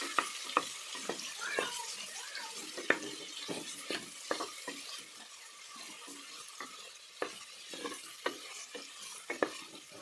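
Brinjal (eggplant) pieces frying in hot oil, with a steady close sizzle and frequent sharp pops and crackles scattered throughout.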